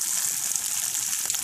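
An egg scrambling and frying in a pan, heard as a steady, close hiss of sizzling with soft crackle, alone and without pauses.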